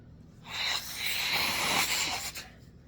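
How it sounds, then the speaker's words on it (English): Someone blows their nose once in a sustained, close, moderately loud hiss, with no talk over it. "I'm going to blow my nose"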